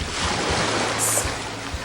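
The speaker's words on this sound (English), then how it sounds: "I was sailing on a boat on water" Steady rushing water and wind fill the clip, with waves washing against a moving boat and low thumps of water slapping the hull.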